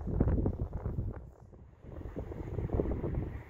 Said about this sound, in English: The wind gusting again